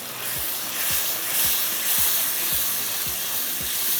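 Tomatoes go into a pan of frying onions for a vegetable handi. A loud, steady hiss of sizzling fills the pan, with soft low thuds repeating about twice a second underneath.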